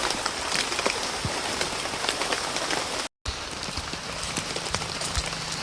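Steady rain falls through a forest near a tribal village after pouring all night, a dense, even patter of drops on leaves and ground with scattered louder splats, continuous apart from a brief cut midway.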